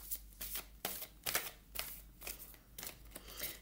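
Tarot cards being shuffled and handled, a series of crisp riffling bursts and soft slaps repeating irregularly, close and fairly quiet, with no talking.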